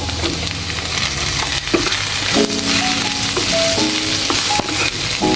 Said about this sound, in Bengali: এখন এই যে ভাজা ভেন্ডিগুলো সব দিয়ে দিব